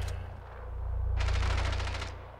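Automatic gunfire in the video game Rainbow Six Siege, a fast burst of rapid shots over a low steady rumble, close and fairly loud, with no talk.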